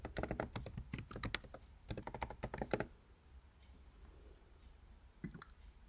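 Typing on a computer keyboard while setting up a new classroom activity, with a quick burst of close, clattering keystrokes for about three seconds, then a pause and a couple of lone taps.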